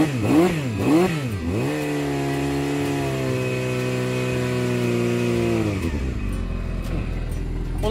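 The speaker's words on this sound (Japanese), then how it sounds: "このぐらいアイドリングしてれば暖気はできるから、この状態でエンジンちゃんと温めて" A Yamaha XJR400 motorcycle engine revs up twice, then settles into a steady warm-up idle for a few seconds before dropping off near the end.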